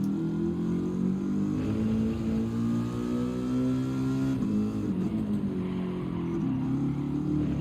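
Racing car engine in Gran Turismo 7 at Laguna Seca, loud and close, revving up through the gears with clear shift drops around the midpoint and again near the end, steady high-pitched whine throughout with no talk.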